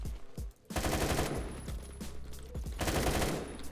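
Rapid automatic gunfire from a gun in a Roblox video game, two loud close bursts of quick repeated shots separated by a short pause.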